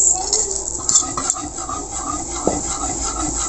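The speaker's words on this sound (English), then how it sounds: "mix na natin yung yellow egg" Egg yolks being mixed in a bowl for a yema cake, giving soft intermittent scraping and clinks of a utensil against the bowl, close but fairly quiet.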